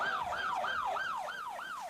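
Emergency vehicle sirens approach a burning compound during the 1993 siege at Waco. A loud, continuous wail rises and falls in steady, evenly repeating sweeps, with no voices.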